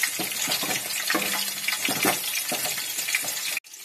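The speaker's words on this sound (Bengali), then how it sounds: "হলুদ, স্বাদ অনুসারে লঙ্কার গুঁড়ো দিয়ে এটাকে একটু কষতে হবে" Chicken sizzles and fries in a pan with turmeric, cumin and chili powder while being stirred, a steady close crackle with scraping stir strokes, no voices, ending abruptly.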